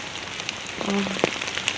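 Rain pattering on rocks in a windy downpour, a steady hiss with a few close drops and a brief tonal squeak partway through, no talking.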